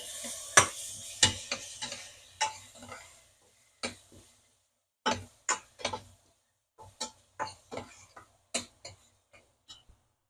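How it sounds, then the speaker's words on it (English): Crushed tomatoes being mixed in a pot, a series of sharp scraping clicks and taps of the utensil in irregular bursts with short pauses between, close and fairly quiet. "mix that up"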